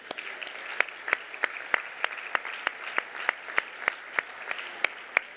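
Scattered applause from a gala audience honoring award recipients, sparse individual claps standing out sharply in an even rhythm against a soft bed of clapping, fairly quiet and distant.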